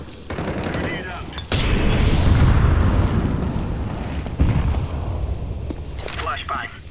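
Grenade blasts in Counter-Strike 2, with two loud, close booms a few seconds apart, each followed by a rumbling decay, and a player talking around them.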